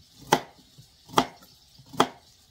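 Carrots are chopped on a board for a slow-cooked beef stew: three sharp, evenly spaced knife strokes, close and clear, with quiet pauses between and no voices.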